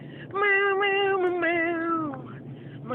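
A person imitates a cat with a long, drawn-out vocal meow, loud and close, rising and wavering in pitch before trailing off.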